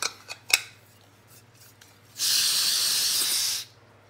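Gas hissing steadily from the valve of a backpacking stove fuel canister for about a second and a half, close and bright, following a few light clicks and taps.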